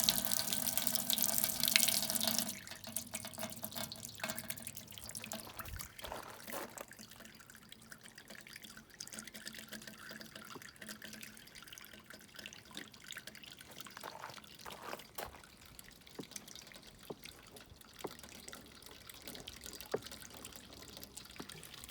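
Homebrewed imperial stout wort drains slowly through a filter clogged with spent grain, a steady trickle with soft drips that is louder at first, then settles into a quieter, continuous dribble.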